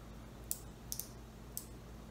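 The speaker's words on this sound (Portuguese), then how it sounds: "Pressiono, eu ouvir alguns cliques e agora está preso." A few small, sharp clicks, three or four spaced irregularly, as a crimping tool presses a Panduit Category 6A RJ45 plug, over a steady low hum in a quiet room.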